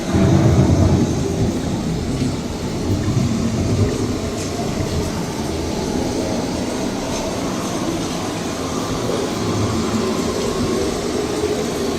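Thunderstorm effect inside a greenhouse ride at EPCOT: a continuous deep rolling rumble, loud and dense, with no talk over it.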